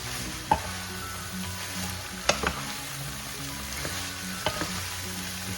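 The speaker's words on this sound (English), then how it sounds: "we can add our sitaw, string beans" String beans and ground pork sautéing for adobo in a pan, a continuous close sizzle broken by a few sharp clacks of a stirring utensil against the pan, with no speech.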